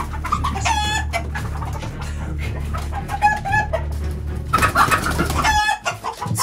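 Several chickens cluck and squawk close by in repeated bursts, with a steady low hum running underneath throughout.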